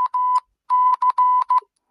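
Emergency Alert System alarm tone in an animation, sharp steady electronic beeps in two bursts, one short group and then a longer choppy series, loud and alone.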